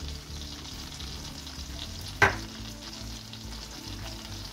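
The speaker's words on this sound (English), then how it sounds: "And I add the chili flakes in as well." Chili flakes sizzling in butter melting over minimum heat, a soft continuous frying hiss with one sharp clack partway through, no voices.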